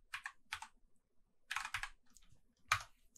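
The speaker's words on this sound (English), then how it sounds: "We can do that by typing boxplot," R code is typed on a computer keyboard in RStudio as short, crisp bursts of key clicks with quiet gaps between them, close and clear with no speech.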